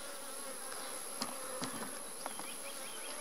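Honey bees buzzing steadily around an open beehive with a migratory lid during a hive inspection, a dense close hum with a few brief individual bees passing near.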